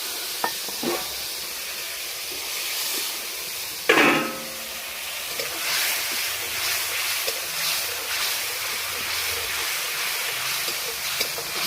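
Water splashes into a hot pan of cumin, ginger paste and chili powder, bursting into a loud hiss that settles into a steady sizzle with scattered spoon clinks, no talking.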